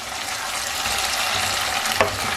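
Fried potato balls stirred into cooking masala in a kadai give a steady, close sizzle of frying, with a brief scrape of stirring near the end.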